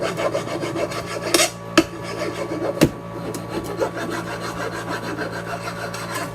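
Wood is rasped by hand with a file and sandpaper while a cleaver is reworked, a close, gritty rubbing with a few sharper knocks and scrapes, steady and unaccompanied by talk.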